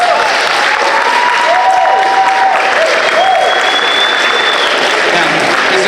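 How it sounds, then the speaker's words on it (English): High school after-prom show audience clapping for volunteers on stage, loud dense applause with a few whistles and cheers mixed in, sustained throughout. "Give them a round of applause."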